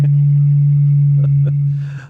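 Someone blows across the mouth of an empty Reef rum bottle, producing one steady, low, hollow hoot that sounds loud and close, holds for about two seconds, then wavers and fades out.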